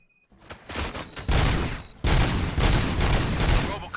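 Gunfire erupts in the RoboCop Rogue City video game: a loud, dense burst of rapid shots and booming reports, continuing almost unbroken after a short quiet opening.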